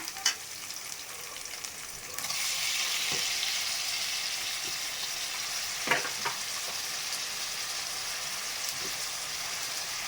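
Tomatoes drop into hot oil for a garlic chili egg curry, and a steady sizzle swells as they fry, with occasional stirring clinks from the pan.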